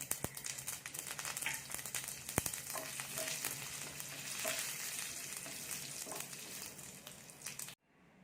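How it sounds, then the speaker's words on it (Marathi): Curry leaves fry in hot tempering oil with cumin and mustard seeds for stuffed masala idli, a loud steady sizzle with scattered crackles that cuts off abruptly near the end, no talking. "जिरं मोहरी तडतडल्यावरती कढीपत्त्याची पानं घालायची आहेत।"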